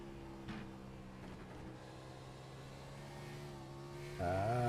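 Race car engine at Sonoma Raceway, quiet and distant, holding a steady drone before climbing sharply in pitch and loudness near the end as it accelerates hard.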